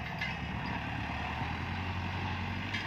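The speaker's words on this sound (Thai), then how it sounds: "เครื่องยนต์ดีเซลคูเปต้าครับ" A Kubota four-cylinder, four-stroke indirect-injection diesel engine on a 50-horsepower Kubota L5018 tractor idles steadily with a low, continuous rumble and no change in pace. It sounds close and fairly loud.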